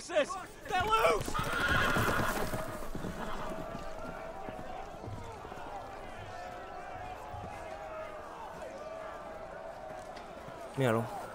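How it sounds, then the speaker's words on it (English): Loose horses whinny and neigh loudly amid shouting voices, with hooves clattering and pounding in the background in a chaotic outdoor scene. "The horses! They're loose!"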